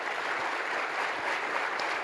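Brief burst of audience clapping for a panel speaker at a conference, an even wash of applause from a room of people, moderately loud and unbroken.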